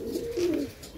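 A single pigeon's brief, throaty coo rises and settles close by, one phrase lasting under a second with no voices.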